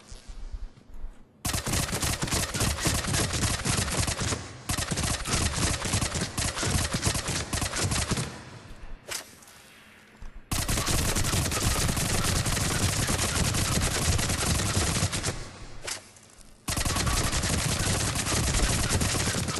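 A Tempest submachine gun in Mass Effect 3 target practice fires full auto in long, loud bursts of rapid shots, separated by short silent pauses.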